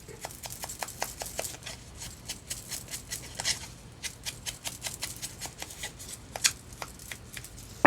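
Paper being ripped by hand while decorating a journal cover, heard as a quick run of close, crisp tearing and crinkling bursts in an uneven rhythm, with no talking.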